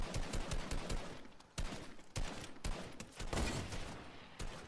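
Video game gunfire in fast, dense bursts of rapid shots and automatic volleys, loud and close, with brief pauses between runs and no talking over it.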